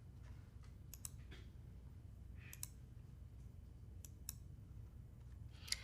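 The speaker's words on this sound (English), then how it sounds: "Once Devin's added to the ACL, I can click on his username, then check the Allow boxes for the permissions I want to give him." A computer mouse clicks in small clusters of sharp, quiet taps, spaced a second or so apart, over a low steady hum in a quiet room.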